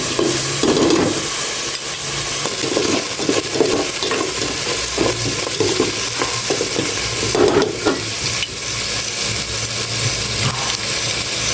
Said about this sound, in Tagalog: Gisapin mo ng maigi.